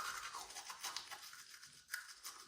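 Close-up scratchy scrubbing of a toothbrush against teeth, continuous and uneven in rhythm, with no voices.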